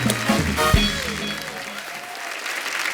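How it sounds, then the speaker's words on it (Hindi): A studio audience at a televised comedy show bursts into loud, close applause that stays steady for about three seconds, with some voices and music heard at the start. "आइए सर, जोरदार तालियां हो जाए एक बार।"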